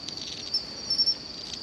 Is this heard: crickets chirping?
yes